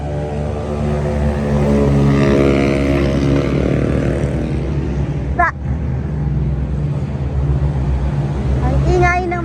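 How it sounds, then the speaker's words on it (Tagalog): Constant roar of passing street traffic with engines droning, a motorbike revving partway through; the noise stays loud and steady the whole time. "Ang ingay ng mga sasakyan."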